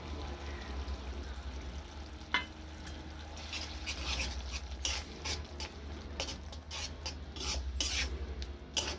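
Spice paste masala being stirred and fried in a pan for a Bengali fish-egg paturi, soft sizzling under repeated scraping and clinking strokes of the spoon, with a low steady hum behind.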